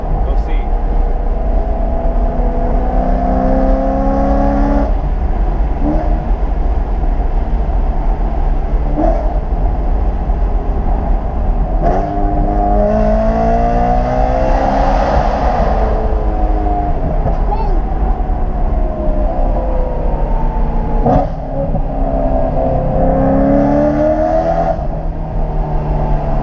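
A C6 Corvette ZR1 pulls away at full throttle out of a parking garage, its loud engine echoing off the walls as revs climb and fall in several rising sweeps over a constant low roar.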